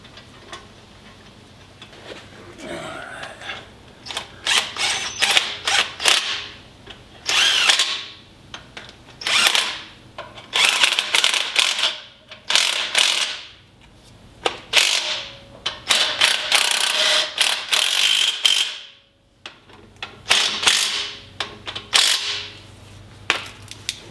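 A power tool snugs the caps back onto a Dana 30 front axle from a 1972 International Scout, running in repeated short bursts with pauses between them and a loud, close whir.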